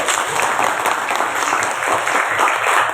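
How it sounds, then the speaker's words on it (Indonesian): Schoolchildren clapping together in a classroom, a dense, steady burst of many small hands that fills the whole moment at even loudness without letup. "Tepuk tangan dulu."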